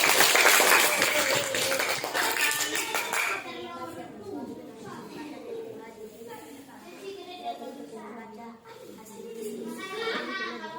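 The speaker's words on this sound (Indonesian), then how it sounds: "Oke, tepuk tangan, kasih semangat untuk kelompok." Students in a classroom give a group a round of applause, with the clapping loudest at the start and then fading into chatter and children's voices.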